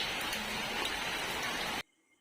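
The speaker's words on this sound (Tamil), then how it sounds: "மழையை பார்க்க சந்தோஷமா தான் இருக்குது." Steady rain falls in a dense, even hiss, close and fairly loud, then stops abruptly near the end, leaving near silence.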